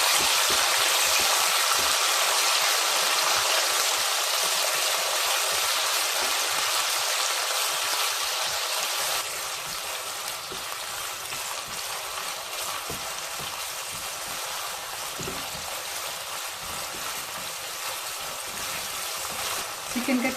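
Sliced chicken sizzles in a pan over a medium flame, a dense, steady hiss that is louder at first and then settles to a softer, continuous crackle.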